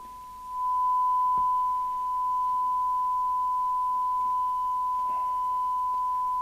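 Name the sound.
test signal tone on CB radio receiver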